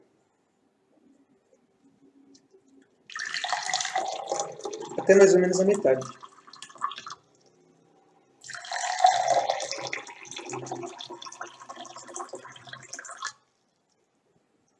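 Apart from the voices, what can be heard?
pouring water into two glasses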